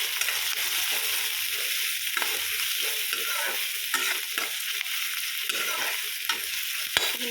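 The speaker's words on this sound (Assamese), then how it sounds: "অকণমান ভাজি লোৱাৰ পিছত" Ginger and garlic fry in a pan with a constant bright sizzle, broken by repeated stirring scrapes and light clinks of a spoon.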